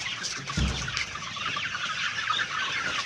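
Chickens cluck softly and continuously inside their coop, a busy layered chatter of several birds close by, with a brief low thump near the start.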